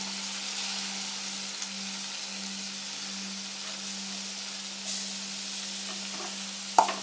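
Tomatoes sautéing with onions and curry leaves in a pan, a soft continuous sizzle with a low steady hum beneath and a few brief spoon scrapes, including a sharper clack near the end.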